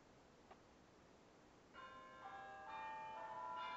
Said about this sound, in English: We didn't order any bells.